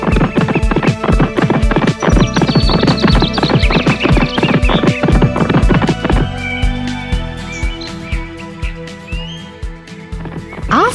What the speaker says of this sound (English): And so the horse started running.